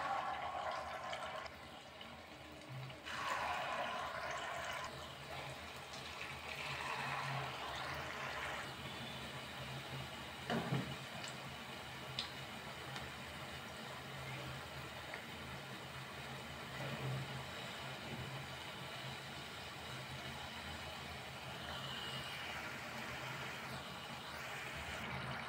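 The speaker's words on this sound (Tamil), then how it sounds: "இப்போ எண்ணெயில் நம்ம போட்டுடலாம்." Batter frying in hot oil in a pan on a stove over a medium flame gives a steady, fairly loud crackling hiss that continues without a break for the whole stretch.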